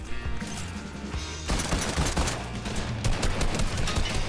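Gunfire in the video game Fortnite, dense rapid bursts of shots and impacts crowding together, loud and continuous with a sharper flurry midway.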